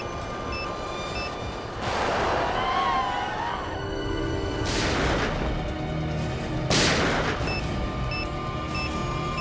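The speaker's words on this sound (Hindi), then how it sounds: "बहुत शौक है तुझे गोली चलाने का, हाँ?" Three loud, sharp gunshots ring out a few seconds apart inside a railway station, over a dense background of noise and repeating electronic beeps.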